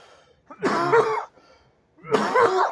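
Two separate harsh coughing bursts, close to the microphone, with a short quiet gap between them.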